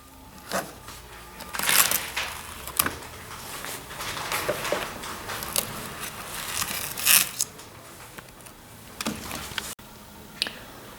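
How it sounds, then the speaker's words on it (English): A flathead screwdriver pries rubber mats off the left arm ledge panel of a massage chair, giving scattered scraping clicks, creaks and sharp snaps close by, with quieter fumbling in between. "use a flathead screwdriver to pry off both rubber mats"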